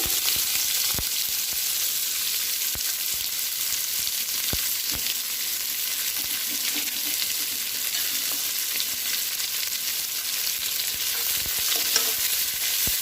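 Onion and curry leaves sautéing in hot oil in a pan for mushroom gravy: a steady close sizzle with frequent sharp scraping ticks of a spoon stirring, no voices.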